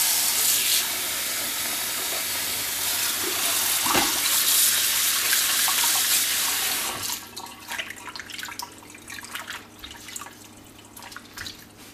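A tap runs loudly over brined grape leaves in a kitchen sink, a steady rushing spray that gives way after several seconds to softer splashes and drips as the leaves are handled under the water.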